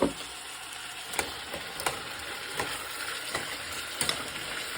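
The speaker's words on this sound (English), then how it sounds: "now I'm going to stir" Beans stirred with a quarter cup of sugar in a pot, with spoon scrapes and taps recurring about every half second to second over a soft, steady cooking hiss.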